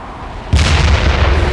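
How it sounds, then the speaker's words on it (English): Heavy weapon fire from a robot's primary weapon in the video game Damnation, a loud booming burst that starts abruptly after a quiet moment and keeps roaring continuously to the end. "TDX 243, fire primary weapon."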